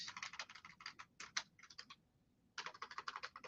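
Fingers tap quickly on a computer keyboard in bursts of clicky keystrokes, pausing for about half a second before another flurry, faint and close with no talk.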